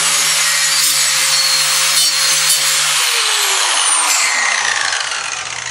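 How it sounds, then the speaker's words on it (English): A grinder fitted with a wire wheel scrapes old rubber tire material off a band-saw wheel, producing a loud, continuous, harsh abrasive whir up close that winds down near the end. "by far your best friend, your grinder with a wire wheel on there"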